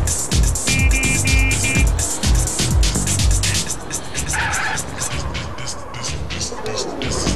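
A car in a video game drives hard and skids, with loud, repeated tire squeals over a revving engine, while a voice talks throughout.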